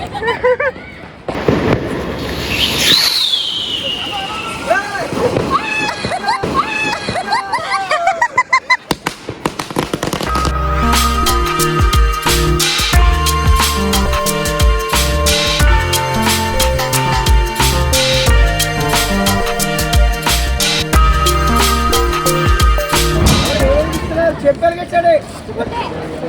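A burst of Diwali firecrackers crackles in a rapid, continuous barrage of loud pops for many seconds, after shouting voices and a whistling rocket-like sound.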